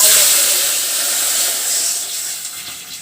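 Hot tempering poured into garlic pepper rasam, giving a loud, close hiss of sizzling that starts strongly and slowly fades over a few seconds, with no talk over it.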